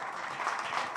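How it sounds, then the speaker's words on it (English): Audience at an event stage claps together in a dense, even burst of applause, steady and fairly close for a moment, with no talk over it. "Ladies and gentlemen, a round of applause for Sasi Naga, founder and chairman"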